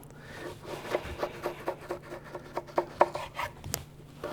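A Santoku knife slices down through stacked potato into matchstick strips, giving a steady run of crisp, close chopping taps on a board, roughly three to four per second, with no talking.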